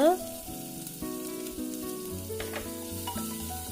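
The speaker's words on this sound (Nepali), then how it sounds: "मसिनो गरेर काटेको एउटा प्याजलाई राख्दैछु। यसलाई पनि केही बेर चलाएर भुट्नुपर्छ।" Finely chopped onion fries with garlic in a pan for a lentil and bottle gourd curry, a close steady sizzle with occasional stirring under background music.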